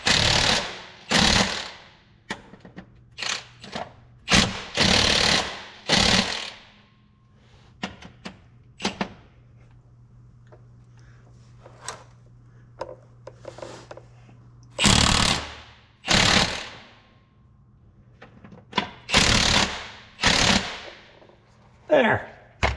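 A ratchet wrench torques engine bolts on a truck engine, giving a series of short loud bursts of clicking and mechanical rattling separated by quieter gaps, with a faint steady hum underneath.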